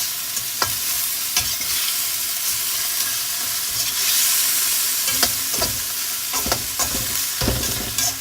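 Chicken frying in a pot of hot oil, sizzling steadily while a ladle stirs it in repeated scraping strokes, close and fairly loud with no talking.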